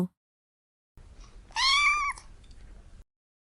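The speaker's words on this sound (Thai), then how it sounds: "เสียงเล็กๆเสียงหนึ่งดังขึ้นหลังจากหล่อนเรียกสติกลับคืนมาได้ มูลี่หันไปมอง เจ้าแมวน้อยส่งสายตาบ้องแบวมาให้" A single high, thin kitten meow rising then falling, close and clear, after a short stretch of quiet room noise.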